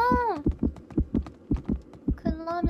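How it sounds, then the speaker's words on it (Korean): Heartbeat effect in the survival game Survival Frenzy, a steady run of deep paired thumps pulsing about twice a second, close and prominent, with a voice talking briefly at the start and end. "심장 소리"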